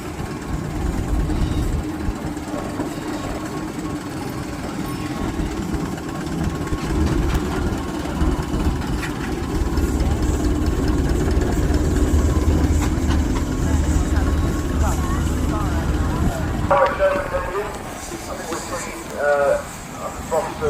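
A Fowler showman's steam engine named Queen Mary runs at a steam rally, its steady low rumble and chuff continuing under loud commentary and crowd noise, with brief clanks near the end.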